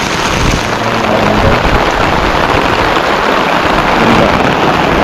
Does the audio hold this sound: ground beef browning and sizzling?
no